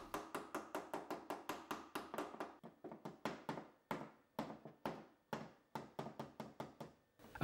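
A tape-wrapped hammer taps window pins into a wooden frame to hold a glass pane in place. The taps are quick, light and evenly spaced, running steadily at close range with no talking.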